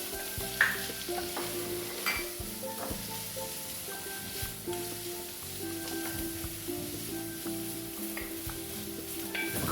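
Spring onion and garlic fry in a pan, a steady close sizzle with periodic stirring scrapes and light utensil knocks through the whole stretch, no speech.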